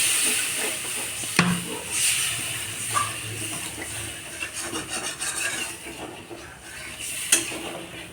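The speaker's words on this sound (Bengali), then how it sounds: "এরপর এর মধ্যে দেখো জল নিয়ে নিয়েছে মামা," Water poured into hot frying masala for a home-style egg curry, giving a steady sizzling hiss with scraping and occasional sharp clicks of utensils against the pan.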